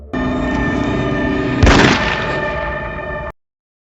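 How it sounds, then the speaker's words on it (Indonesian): A single loud gunshot bursts sharply in the middle of a sustained droning tone, then the sound cuts off abruptly. "sebuah tembakan lain kembali terdengar"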